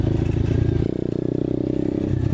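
An Apollo 125cc dirt bike ridden along a trail in second gear, its single-cylinder engine chugging loud and close with a rapid pulsing beat that shifts pitch as the throttle changes, plus some clatter from the ride.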